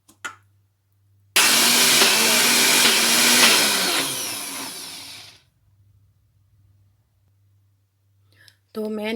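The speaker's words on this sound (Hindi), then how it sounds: "तो यहाँ मैं डालूँगी ग्राइंड के अंदर इसको ग्राइंड करने के लिए" An electric kitchen grinder whirs loudly for about four seconds as it grinds poppy seeds (kas kas), starting abruptly and tailing off as it spins down, with brief sounds before and after.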